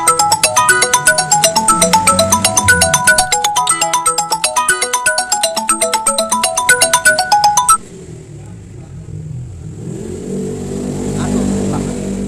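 A phone ringtone plays a repeating bright electronic melody loudly for several seconds at a motorbike race event, then cuts off, leaving low rumbling background noise.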